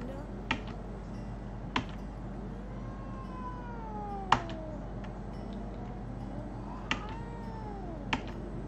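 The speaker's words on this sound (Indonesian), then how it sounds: "Gue nggak mau sentuh kucing ini." Cat meowing in the horror game DreadOut 2, set at a school: several drawn-out, gliding meows rise and fall over a steady background hum, broken by a few sharp clicks.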